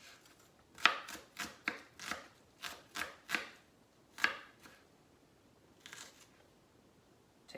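Series of crisp knife chops on a cutting board as an onion is diced, about ten sharp strokes in an uneven rhythm, close and fairly quiet, ending in a couple of softer cuts.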